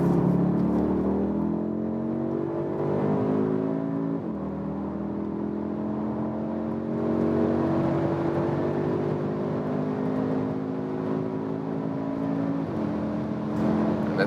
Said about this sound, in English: see how is the acceleration when we are already at speed from the smaller engine